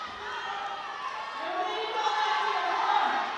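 Slovenian team members scream and cheer for a lifter at a European classic powerlifting championship, a steady wall of raised voices that builds slightly louder toward the end.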